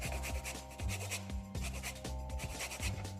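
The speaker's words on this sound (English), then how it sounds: "Make sure you don't grate down to the bitter white pith." Lemon zest being finely grated for a baked raspberry and ricotta cheesecake: close, repeated rasping strokes in a steady rhythm over a faint, constant tonal background.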